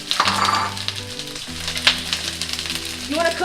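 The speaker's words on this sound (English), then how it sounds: "every good dish starts off with a sauteing or stir-frying onion" Onions stir-frying in hot oil in a pan for veggie lo mein give a steady, close sizzle with crackling spatters, with no talk over it and a low hum beneath.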